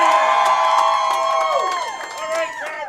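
Crowd cheering and whooping for the Evansville North team at the Indiana high school girls bowling team finals, a loud sustained roar of voices with shouts and some clapping across the whole stretch.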